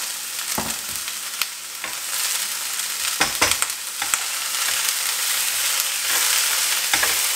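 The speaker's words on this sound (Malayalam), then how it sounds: "ഇനി ഞാൻ ഇതിലേക്ക് കട്ട് ചെയ്ത് വെച്ചിരിക്കുന്ന കോവയ്ക്ക ഇട്ട് കൊടുക്കുകയാണ്." Chopped ivy gourd stir-fries in a pan with a little oil and mustard seeds, giving a steady loud sizzle broken by sharp scraping strokes of a spatula, close up and without talking.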